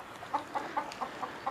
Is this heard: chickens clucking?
yes